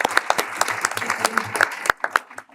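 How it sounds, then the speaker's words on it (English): Scattered clapping from a small workshop audience for speakers and panelists, quick uneven hand claps that thin out and fade toward the end. "A round of applause, I think, for the speakers and panelists again."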